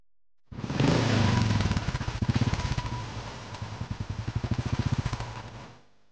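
A motorcycle pulls up close and loud, its engine revving before settling into a steady putter that fades as it stops; no one speaks.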